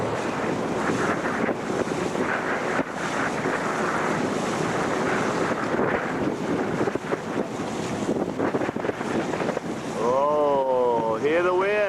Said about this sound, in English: Oh, hear the wind.